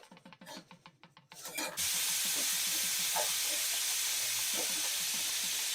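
Peanuts, already roasted, are dry-roasted again lightly in a pan for a mango rice dish: a steady broadband sizzle and hiss sets in after a couple of seconds of scraping and stirring, with soft clicks from the nuts shifting throughout.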